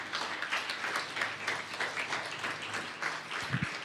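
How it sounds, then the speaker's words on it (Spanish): Congregation applauding in a church during a Sunday morning service, a steady wash of many hands clapping at moderate level with little change, ending in a brief low thump. "Dale otro fuerte aplauso a Dios en esta mañana."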